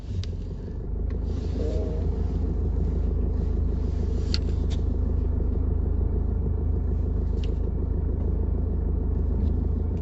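A car idles and creeps into a parking spot beside a home, its low steady engine rumble dominating, with a few faint rubbing and clicking sounds over it.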